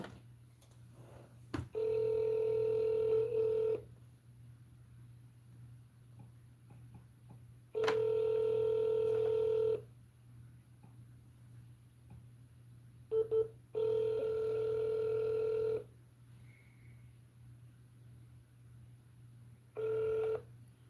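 Telephone dialing tones while placing a call to Google Voice: four steady sustained tones of about two seconds each with short clicks between them, heard clearly and alone over a low constant hum.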